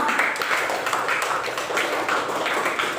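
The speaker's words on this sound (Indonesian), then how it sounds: "Tepuk tangan." A classroom of students claps together in a brisk, rhythmic pattern of repeated bursts, steady and moderately loud for the whole stretch.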